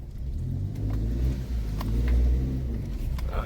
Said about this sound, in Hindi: ये गाड़ी भी क्रॉस हो चुकी है गाइस